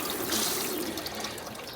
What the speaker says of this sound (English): it's a sink with running water and everything.